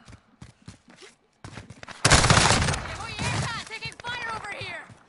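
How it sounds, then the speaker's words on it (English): Burst of first-person shooter gunfire in a Free For All match, a loud sustained volley of shots kicking in suddenly after quieter moments, with someone talking over and around it. "Taking fire over here."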